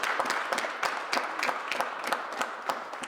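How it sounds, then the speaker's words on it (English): An audience at a city press briefing applauds road plowing crews, a continuous wash of many hands clapping with a few louder distinct claps standing out, steady throughout. "give them a round of applause for the job that they're doing"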